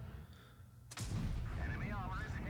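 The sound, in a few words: tank cannon fire in video game World of Tanks Blitz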